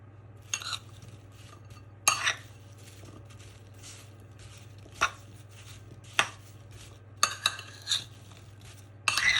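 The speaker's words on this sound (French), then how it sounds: "J'ajoute mes 20 g de sucre vanillé restant et je mélange pour que ce soit prêt à garnir." Vanilla sugar stirred into a liquid tart dough made without eggs or butter, heard as sharp, irregular clacks of a utensil against a bowl over a low steady hum, with a handful of scraping strokes spaced seconds apart.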